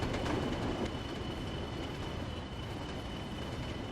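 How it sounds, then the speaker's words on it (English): Freight train brakes squealing under a full brake application in a train simulator game: a thin, steady high squeal runs over a constant rolling rail rumble from start to finish. "You hear the squealing of the brakes there."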